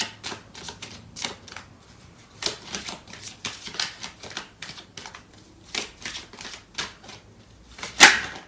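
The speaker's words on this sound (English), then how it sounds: "So I'm going to clarify these cards with the other deck." Tarot cards are shuffled close by in repeated quick bursts of soft, papery riffling clicks with short gaps between them, with no voices.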